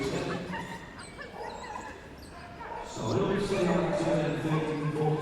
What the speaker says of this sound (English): You can hear her yelping with joy as she makes her way round.